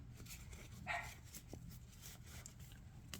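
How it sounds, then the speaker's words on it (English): A dog barks outside, faint and distant, with a short burst of yips standing out once against a quiet indoor background. "My dog is going wild out there."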